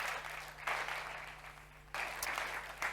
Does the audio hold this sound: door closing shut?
no